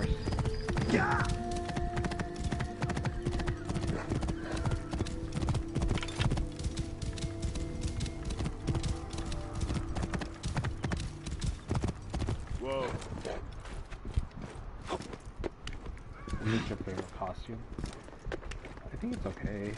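Rhythmic clip-clop of horse hooves in Assassin's Creed Origins, with repeated hoofbeats and a whinny, under casual conversation between players.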